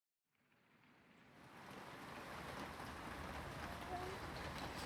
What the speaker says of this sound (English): So, it's raining, we knew.